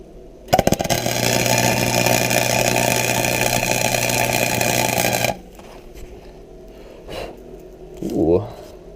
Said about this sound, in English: so now we can really throw down some welds